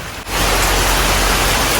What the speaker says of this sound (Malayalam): ഇപ്പോൾ പെട്ടെന്ന് തന്നെ വലിയൊരു മഴ പെയ്തു